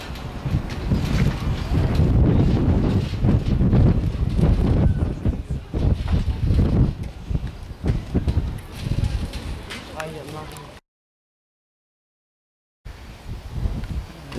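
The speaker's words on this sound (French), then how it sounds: "Il y a un peu de vent, mais bon, on espère une accalmie d'ici ce soir." Strong seaside wind buffets the microphone in heavy, gusting rumbles at a Mediterranean regatta event on the Côte des Roses, loud and uneven, breaking off abruptly into silence before resuming more faintly.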